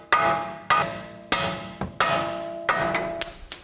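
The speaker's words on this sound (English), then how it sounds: "Now carefully hammer out these bolts." Five sharp metallic hammer strikes knock bolts out of the front strut assembly on a 2009-2017 Chevy Traverse, each blow ringing briefly before the next, spaced irregularly about half a second to a second apart, close and loud with no talk.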